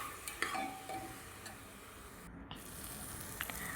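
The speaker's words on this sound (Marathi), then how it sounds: "आता कांदा परतत असताना ह्यात थोडीशी कोथिंबीर टाकून आपल्याला ही या कांद्यात परतून घ्यायची आहे." Onion and coriander sauté in a pan for moong dal khichdi, with a faint, steady sizzle under a few light utensil taps and stirring scrapes, quiet overall and without speech.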